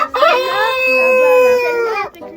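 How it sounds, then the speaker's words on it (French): Hens clucking in a backyard coop in Martinique, one hen brooding on eggs, heard as a sustained, close, tonal vocalization that rises and holds steady before stopping abruptly. "Voici les poules, guys."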